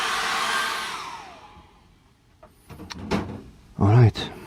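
A hair dryer blows loudly over acrylic paint on a canvas seascape for about two seconds, then winds down and fades, followed by someone talking.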